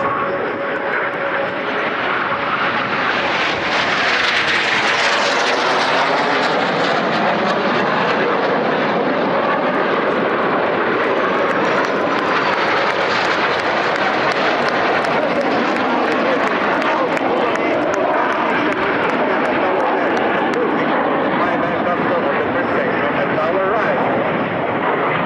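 Frecce Tricolori aerobatic jets fly a display at the Quinte Airshow, their loud, sustained roar swelling to a peak, easing, then building again throughout.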